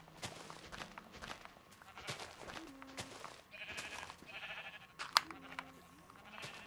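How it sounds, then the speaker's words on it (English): Sheep in Minecraft bleat repeatedly on a game farm, short synthetic baas mixed with footsteps and other game sounds, with a person talking over them. "these sheep are everywhere, get out of the way"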